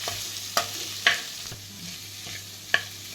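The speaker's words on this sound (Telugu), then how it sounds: "ఆనియన్స్ జింజర్ గార్లిక్ పేస్ట్ అదంతా కూడా ఈ రొయ్యలకి పట్టేలాగా బాగా కలుపుకొని ఒక రెండు నిమిషాలు వేయించుకోవాలి" Prawns frying in a pan with onion and ginger garlic paste for an Andhra prawn curry, a soft sizzle broken by several sharp scrapes and clacks of a stirring spoon, close and fairly quiet.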